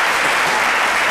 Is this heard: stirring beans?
no